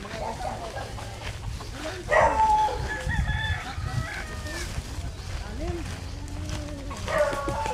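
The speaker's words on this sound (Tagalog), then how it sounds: "yung mga sisiw lumabas na, guys, galing sa barn" Chickens and young chicks cluck and a rooster crows around a game farm yard after coming out of the barn, with a dog barking at times and people talking throughout.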